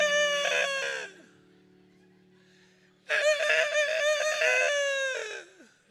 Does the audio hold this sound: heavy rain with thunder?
no